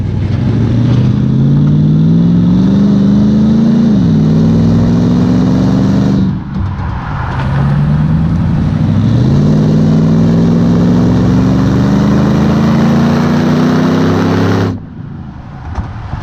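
A supercharged 5.3 liter V8 in a Buick Rainier GNX revs loudly and close by, its pitch climbing in long sweeps, dipping briefly between pulls, then rising again before cutting off near the end.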